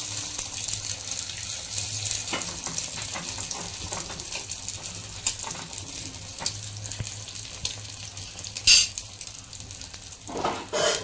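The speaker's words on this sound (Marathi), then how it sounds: "ही फ्राय झालेली आहे तर आपण दुसऱ्या साईडने मग फ्राय करून घ्यायची" An egg omelette frying in a pan after being flipped to its other side, a steady soft sizzle running throughout with a few brief clatters and scrapes near the end.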